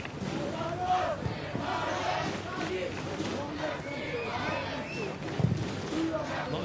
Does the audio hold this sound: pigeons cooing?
no